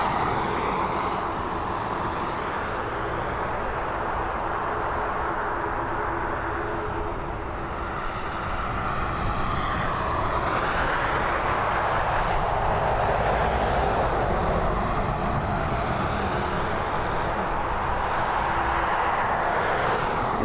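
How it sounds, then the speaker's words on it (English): Airbus A220 airliner at Dublin Airport, a steady, broad jet engine roar that swells slightly and holds for the whole stretch, distant and continuous with no talk. "It's an Airbus A220."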